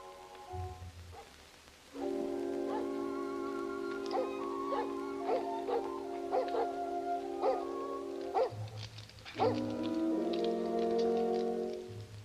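Several dogs bark and whimper indoors in a 1947 film scene, with repeated high yelps and whines over a sustained tonal hum, the calls coming in clustered bursts at moderate distance.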